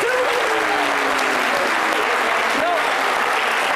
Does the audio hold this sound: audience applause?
yes